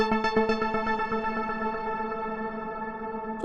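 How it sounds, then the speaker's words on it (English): A single Omnisphere synth note soaked in echo and delay, a pulsing run of bright repeats that decay over about three seconds into a lingering harmonic tail, with no voices. "a little bit of echo and delay"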